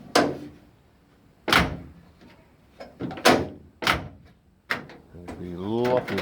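Doors on a kit car being closed and shut several times in a row, sharp thuds with pauses between them, up close, followed by a person starting to talk.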